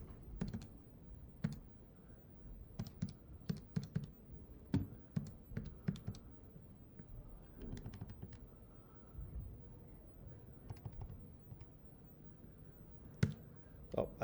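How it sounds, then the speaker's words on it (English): Fingers tap numbers into a calculator keypad: a quiet, close run of irregular clicks in small bursts with pauses between entries, no talking. "Oh, I typed the wrong button."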